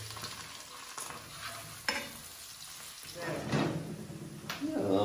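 Onion going into hot oil with garlic and peppers, sizzling steadily while a spoon stirs and scrapes, the frying growing louder and busier toward the end, close to the pan.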